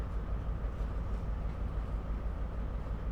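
A British express train in the Train Sim World 5 game coasts into a station, giving a steady low rumble and wheel-on-rail hum with faint rhythmic knocks and no voices.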